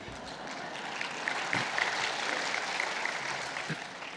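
A church congregation clapping, a broad steady patter that swells slightly in the middle and continues for a few seconds.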